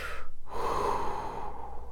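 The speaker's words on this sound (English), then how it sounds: "take a deep breath" A single deep breath drawn in and let out slowly to calm nerves, close and breathy, lasting about two seconds with no speech.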